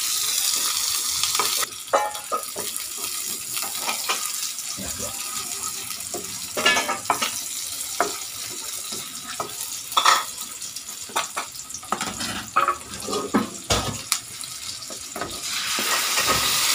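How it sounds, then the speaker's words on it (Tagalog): Onion sautéing in a frying pan makes a close, crackling sizzle, with frequent scrapes and knocks from stirring and bursts of louder spattering. "Lagyan na natin ang ating onion."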